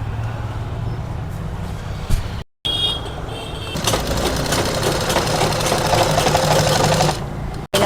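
An electric sewing machine stitches a sharara garment with a fast, continuous whirring hum. It pauses briefly twice, then resumes up close and loud.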